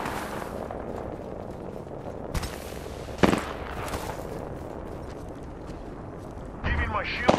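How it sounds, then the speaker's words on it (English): Gunfire in a battle royale video game, bursts of shots hitting nearby in a few sharp cracks against a steady background of game noise and talk. "Hey, I'm getting shot."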